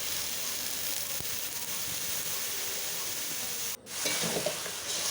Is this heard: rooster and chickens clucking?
no